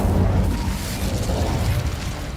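An Incendio fire spell is cast in the video game Hogwarts Legacy, giving a dense, roaring whoosh of flame that holds steady and loud for a couple of seconds without pause.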